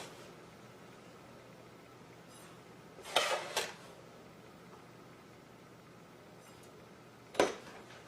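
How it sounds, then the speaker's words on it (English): Two or three brisk scoops of granulated sugar dropped into a pot on a stovetop, a short clustered pair around the middle and another sharp pour later, each a gritty rustling burst over quiet room hiss. "The first thing we're going to do is put in 2 cups of sugar"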